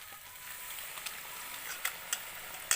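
Pork frying in a pan for an Assamese pork dish with bamboo shoot: a steady soft hiss of sizzling with scattered sharp pops and crackles growing more frequent toward the end.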